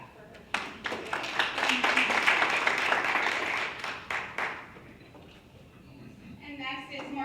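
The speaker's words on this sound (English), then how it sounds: "You would give her a hand clap for her." An audience at a US-Africa business matchmaking panel claps for a panelist, a burst of applause that rises, holds and tapers off, followed by a voice starting to speak.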